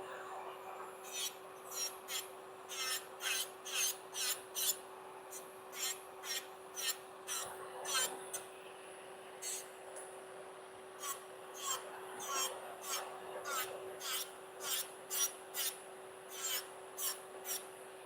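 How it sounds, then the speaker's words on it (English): Fingernails rubbed with a nail file in quick, regular rasping strokes, grouped in short bursts with brief pauses, close and fairly quiet over a steady faint hum. "I'm filing here and I'm filing there"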